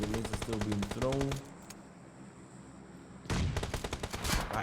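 Rapid automatic gunfire in a video game battle during an esports tournament match: two loud bursts of rattling shots split by a quieter pause, with a voice talking over the first burst.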